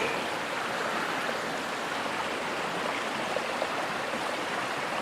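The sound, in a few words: flowing water of Pilchuck Creek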